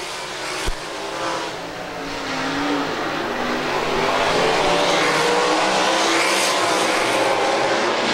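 ASCS Warrior sprint cars race on the dirt oval at Lucas Oil Speedway, a roaring pack of open-wheel engines swelling steadily louder as they pass, continuous and loud.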